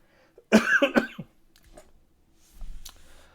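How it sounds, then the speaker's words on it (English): A man gives a short, close burst of coughing, two or three harsh hacks in quick succession, then near silence with faint breathing and a low rumble. "it was that rare cough that made me remember I haven't been coughing"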